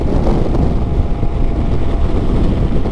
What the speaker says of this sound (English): You can probably hear the wind, but it is mostly coming from the side.